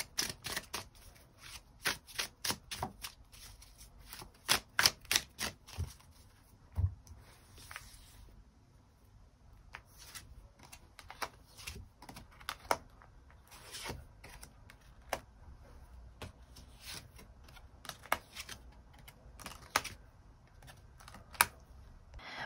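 Tarot cards being shuffled and drawn, with quick crisp riffling and snapping clicks in clusters near the start and again later, close and soft against a quiet background.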